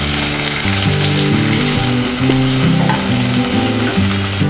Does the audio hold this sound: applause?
no